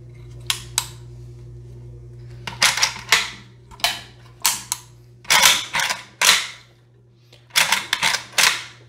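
A ZPAP rifle is handled, its bolt and mechanism locking in with a series of sharp metallic clacks and snaps, mostly in quick pairs and triplets with short pauses, close and loud over a faint steady hum.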